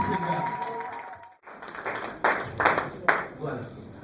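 Church congregation applauding to welcome a pastor: after a voice fades out, scattered claps build into uneven applause with a few sharp, louder hand strikes, fairly soft overall, and faint voices continue beneath.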